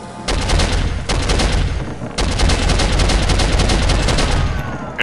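Loud game combat in Soldier of Fortune: a phosphorus grenade goes off amid heavy bursts of gunfire, with sharp blasts and rattling volleys filling the whole stretch, no voices.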